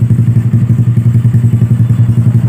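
A Yamaha Jupiter MX motorcycle engine, in for a clutch plate replacement, runs close by with a steady, rapid chugging idle and loud rhythmic low thumps throughout.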